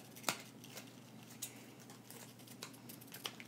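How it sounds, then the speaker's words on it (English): Small child's scissors snip paper while cutting dragonfly wings from a folded paper dragonfly, a series of quiet, sharp snips spaced irregularly and close up, with no talk. "So we'll just cut right here on the corner and cut all the way to the middle"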